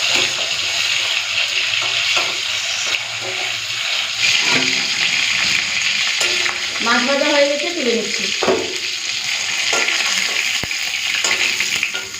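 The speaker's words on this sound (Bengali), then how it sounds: "মাছটা একটু লাল করে ভেজে নিই" Fish frying in an iron wok, a loud continuous hiss and crackle of hot oil close by, with a short watery gurgling swirl partway through and occasional knocks of the spatula.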